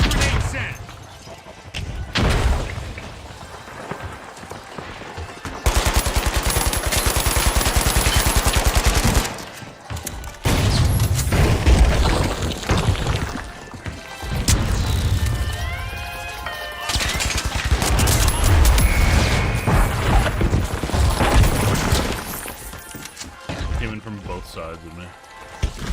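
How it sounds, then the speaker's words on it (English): Frag grenade blast and bursts of automatic gunfire in a video game, loud, dense volleys with brief gaps, with a player's voice talking over the action. "Frag grenade out!"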